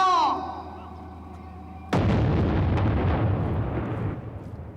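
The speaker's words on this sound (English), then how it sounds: "鸣礼炮。" A ceremonial artillery gun salute at a national anniversary celebration: one sudden loud boom that rolls and reverberates across a wide open space, following a brief voice announcement.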